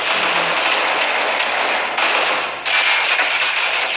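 Rapid burst of rush gun fire in the mobile shooter Critical Ops, a loud, dense crackling stream lasting several seconds with brief dips, close and with no talk over it.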